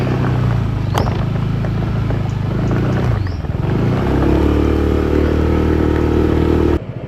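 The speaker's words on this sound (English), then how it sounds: "2 people on the back of a motorbike, especially only 160cc." A small 160cc motorbike carrying two people strains and revs loudly up close, labouring steadily as it climbs a steep cement hill in Phuket, Thailand, with rattling and clatter mixed in.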